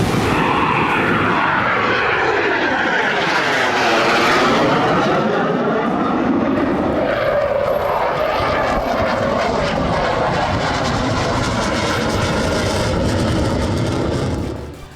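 A fighter jet roars low over the Ganga Expressway in Shahjahanpur during a landing and takeoff rehearsal, a loud continuous engine roar sweeping in and out with a strong rising and falling pitch before cutting off.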